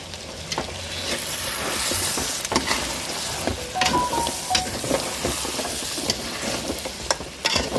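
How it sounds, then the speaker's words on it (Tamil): Masala for goat head curry gravy sizzles steadily in a pan while being stirred, with frequent scraping clicks and spoon knocks over a continuous bright frying hiss, close and fairly loud. "இந்த மசாலாலாம் நல்லா பச்சை வாசனை போகிற அளவுக்கு வேக வச்சு இறக்கிய வேண்டியதான்"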